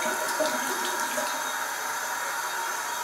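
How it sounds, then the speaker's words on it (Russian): Hot water runs from a tap into a small container, a steady close hiss and splash with no talk. "И завариваем как бы его максимально горячей водой из крана."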